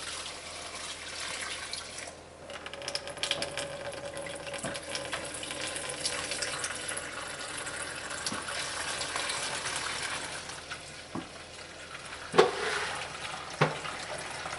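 Blueberry wine pours and gushes steadily into a mesh bag for a long stretch, a continuous splashing wash with a few faint knocks near the end.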